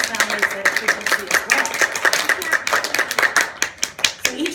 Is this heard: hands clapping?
yes